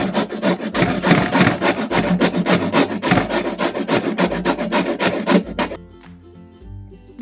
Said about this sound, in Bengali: আমি ঘষে নেবো বিটগুলোকে।